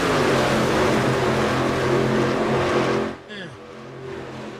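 Race car engines in a truck racing video game drone loudly and steadily with a rising rev, then cut out abruptly and drop to a quieter engine hum.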